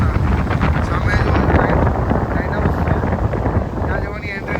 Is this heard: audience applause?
no